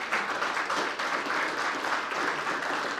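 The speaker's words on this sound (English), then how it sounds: "A round of applause for Joe." A room full of people applauds at an Irish society gathering honoring a consul, a continuous even patter of clapping hands, moderately loud and unbroken, with no speech over it.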